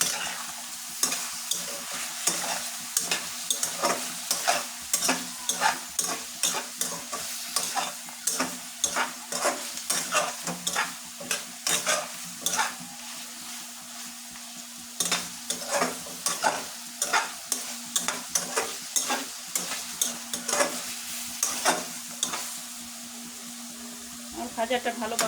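Spices and chili powder frying in a pan, a continuous sizzle broken by frequent sharp scraping stirs that repeat in a loose rhythm, close and fairly loud, with a voice talking now and then.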